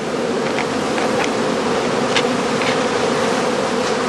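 Honeybees buzzing around straw skeps kept by a traditional beekeeper, a steady dense droning hum from many insects close by, continuous and unbroken with no voices.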